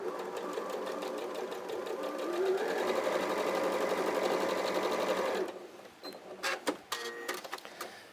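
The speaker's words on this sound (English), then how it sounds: "then you go along this edge and sew that 1/4 inch" A sewing machine stitches a quarter-inch seam on a quilt block, a steady fast mechanical whir that runs for about five seconds, then stops and gives way to a few clicks and handling sounds.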